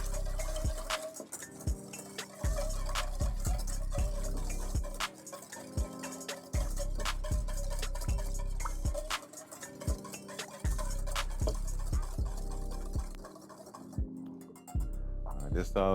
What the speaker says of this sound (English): we're gonna whisk this up real good